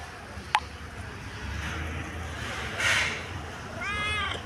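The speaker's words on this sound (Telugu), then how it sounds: "పిల్లి" A cat gives a short meow near the end, preceded by a sharp click and a brief higher cry, with low background rumble and faint human sounds.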